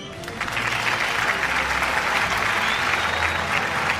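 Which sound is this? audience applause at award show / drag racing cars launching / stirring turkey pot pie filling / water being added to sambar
audience applause at award show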